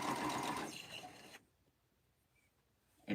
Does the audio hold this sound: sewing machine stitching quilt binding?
yes